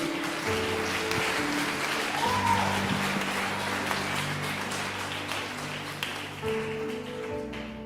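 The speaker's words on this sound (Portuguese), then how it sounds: "Pode aplaudir a Virgem Maria." Church congregation at a Catholic sermon applauding the Virgin Mary, a broad steady wash of clapping for about eight seconds, moderately loud and sustained, with sustained tonal hum underneath.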